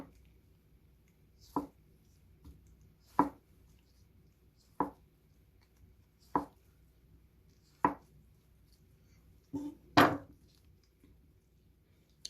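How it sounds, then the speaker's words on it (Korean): A knife chops through food on a cutting board for tofu kimchi, six or seven sharp separate cuts at a slow, regular pace, close and clear against a quiet room. "이렇게 먼저 썰어서 준비를 해주세요"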